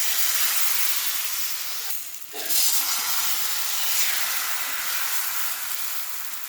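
Rice flour dosa batter sizzles on a hot pan, giving a loud, steady hiss that dips briefly and then continues unbroken.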